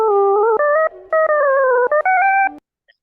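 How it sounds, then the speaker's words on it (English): Synthesized playback of an extracted pitch track from a blue-notes music study: a buzzy, electronic tone hops between pitches in short stepped segments for about two and a half seconds, then stops abruptly. "toggling the playback of the pitch track"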